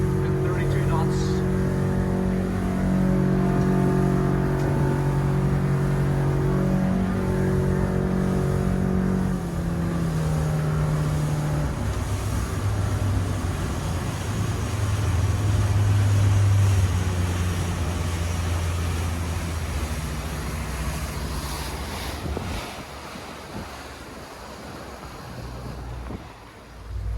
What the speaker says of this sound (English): full throttle there was about 32 knots, 36 miles an hour